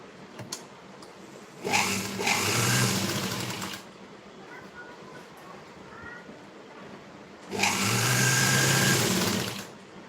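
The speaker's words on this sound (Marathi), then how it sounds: "दोन्ही भाग व्यवस्थित पकडून नंतर त्यावरती शिलाई मारून घ्यायची" A sewing machine stitching pieces of a princess-cut blouse together runs in two close, loud bursts of rapid whirring, each about two seconds long, with quiet handling noises between them.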